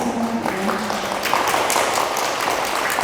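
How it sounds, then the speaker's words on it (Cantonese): Audience applause greeting the president of a Buddhist society at a dharma talk, a steady broadband patter of clapping sustained evenly for about three seconds. "俾啲掌聲"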